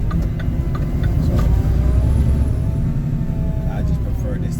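A ready mix concrete truck with a top-heavy water tank drives along, its engine a continuous loud low drone with road rumble and faint higher whines throughout.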